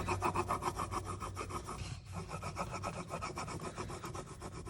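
Rub-on transfer being burnished onto a clipboard, a steady close scraping rub in quick back-and-forth strokes with a brief pause midway.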